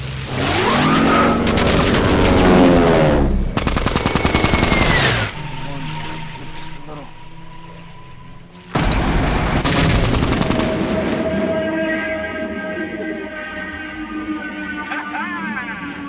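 Machine gun fire in a WWII aerial dogfight film scene, rapid bursts of gunshots in loud rattling volleys alternating with droning aircraft engines, with voices speaking in between.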